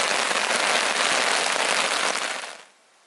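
Rain drums steadily on a tarp over a lakeside campsite on an Algonquin Park canoe trip, a dense loud patter that holds for over two seconds and then quickly dies away.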